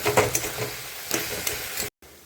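Fish with taro greens, shrimp and fish heads fry in a pan with sugar, crackling and sizzling with scraping stirs, then a sudden brief cutoff before the sizzle resumes faintly.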